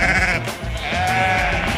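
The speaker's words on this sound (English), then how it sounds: "This dog is the leader of this flock of sheep and knows all the tricks to lead them." A flock of sheep bleats loudly and close, several overlapping wavering calls filling the moment, with no talking over them.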